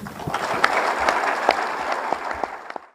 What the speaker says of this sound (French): Je voudrais qu'ensemble, nous leur traduisions notre infini soutien à travers un tonnerre d'applaudissements.